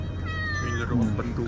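A cat on a farm in the desert meows in a short, rising and falling call, close and clear, with a person speaking softly nearby.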